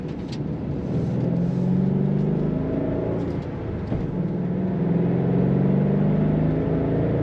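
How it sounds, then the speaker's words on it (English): A 2009 Ford Mustang Bullitt V8 revs steadily while being driven, its engine note rising and falling in sustained, loud waves with shifting pitch and no talk over it. "And again, you can rev it as high as you want."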